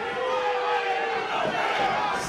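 A wrestling crowd at a tag-team match chants and shouts in a dense, sustained roar of many voices, loud and continuous, with overlapping yells.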